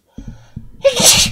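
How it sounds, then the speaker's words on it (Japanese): A single close, sharp sneeze bursts out after a brief intake of breath and a few short vocal sounds. "くしゃみをマイクでミュートにしようとして失敗した。"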